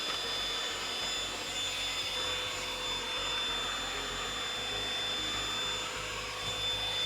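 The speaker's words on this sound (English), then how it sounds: "you're just going to vacuum all of that gunk out of there" A vacuum cleaner sucking dust out of a game console, a loud, steady whining roar that holds constant throughout with no voices.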